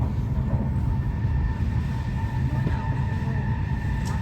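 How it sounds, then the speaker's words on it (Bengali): Steady low rumble and rolling hum inside a train travelling from Helsinki Airport to Helsinki Central Station through snowy conifer country, continuous and loud throughout with no talk. "আমরা হেলসিঙ্কি এয়ারপোর্ট থেকে ট্রেনে উঠেছি, যাচ্ছি হেলসিঙ্কি সেন্ট্রাল স্টেশন।"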